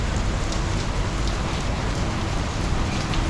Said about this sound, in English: my idea to film in the rain is